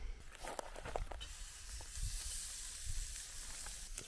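A big steak hits a grill at a campsite, producing a close hissing sizzle that swells and holds steady, with a few soft knocks and handling sounds in the first seconds.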